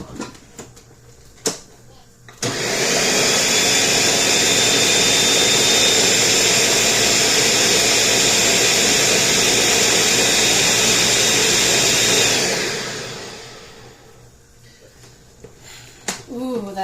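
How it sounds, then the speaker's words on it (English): A kitchen blender starts abruptly and roars at a constant high-pitched whir for about ten seconds, then winds down; brief clatter before and after. "put my blender back on for a minute."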